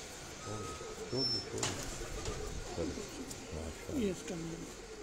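Rooftop pigeons coo in a series of low, rolling calls close by, a few distinct phrases repeating, with someone talking over them.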